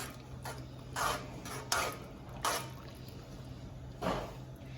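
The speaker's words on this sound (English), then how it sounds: "So I just stir until it's basically not red anymore" A spoon stirs stewed pork chops in a pot, giving a few faint scraping and clinking strokes spaced about a second apart over a quiet background.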